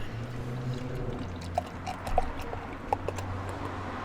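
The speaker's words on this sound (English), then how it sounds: "really opening it up with that nice brewer pour there" Barrel-aged sour beer pours steadily into a glass at close range, a soft continuous fizzing wash with a few brief clinks and splashes.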